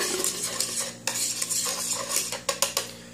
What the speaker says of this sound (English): And now I put everything back in. I get it all whisked in there.